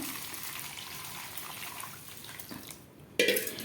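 Moringa leaves being rinsed in water with a little turmeric and salt, giving a steady close wash of sloshing, dripping liquid that drops briefly before a louder splash near the end.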